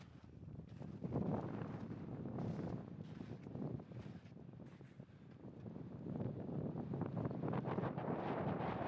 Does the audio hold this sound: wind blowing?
yes